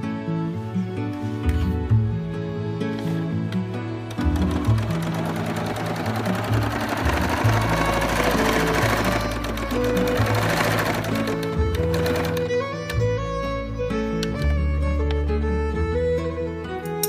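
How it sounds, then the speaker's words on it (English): A sewing machine runs in fast rhythmic stitching bursts, near and fairly loud, with a few short pauses where it stops and starts again. "the sewing machine kept stopping a couple times"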